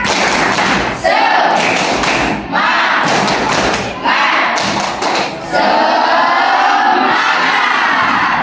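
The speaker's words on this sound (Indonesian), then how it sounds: "Kita tepuk semangat dulu ya." A school class performs the tepuk semangat clapping chant together, loud rhythmic bursts of claps and thumps alternating with shouted group chanting, near and energetic, in repeated phrases.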